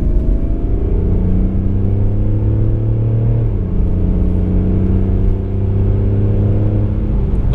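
A 2018 Mercedes CLS 350d with an inline six-cylinder diesel accelerating in sport plus mode, a loud, deep, raspy engine drone climbing in pitch, dropping at a gear change, then rising again.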